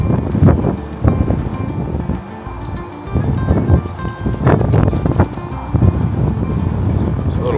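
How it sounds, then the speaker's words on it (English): Gusty wind buffets the microphone in loud, rumbling bursts that rise and fall unevenly, with a brief lull partway through. "It's a little windy."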